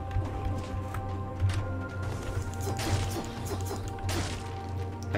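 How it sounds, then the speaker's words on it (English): Objects smashing in the Dead Cells video game: repeated crashing whacks and swishes over a steady, droning game soundtrack, fairly loud and with no talk. "I shouldn't really be smashing, oh my."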